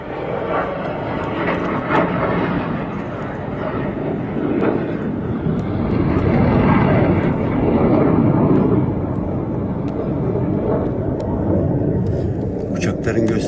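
Aircraft performing at an air show produce a loud, sustained rumbling engine roar that swells and fades over several seconds, heard from a rooftop with a person talking over it.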